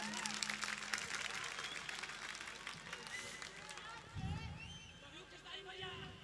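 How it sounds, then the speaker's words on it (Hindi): An audience gives a performer a welcoming round of applause, a dense, steady clapping from a crowd that slowly eases off, with faint voices underneath. "जोरदार ताली से स्वागत कीजिए साहब।"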